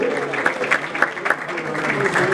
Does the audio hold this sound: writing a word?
no